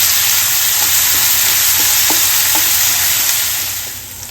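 Garlic and green chillies frying with bitter gourd for a jaggery bitter gourd dish give a loud, steady close sizzle that runs unbroken and eases off slightly at the very end.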